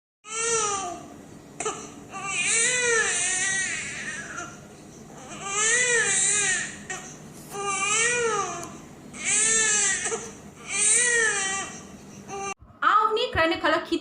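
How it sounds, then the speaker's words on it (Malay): A baby cries from hunger in a string of rising and falling wails, loud and close, with short breaths between them and a brief clatter of other noise at the very end. "perut dia lah yang akan initiate atau trigger ataupun mencetuskan gesaan untuk baby menangis dan keluarlah bunyi lapar"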